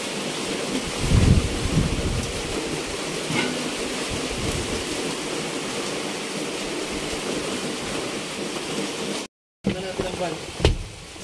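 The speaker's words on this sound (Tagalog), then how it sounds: "Talagang sobrang lakas ng ulan." Heavy typhoon rain pours steadily, loud and close, with gusts of wind and a few louder bumps, cutting out briefly near the end before resuming.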